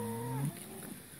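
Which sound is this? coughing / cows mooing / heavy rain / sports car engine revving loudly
cows mooing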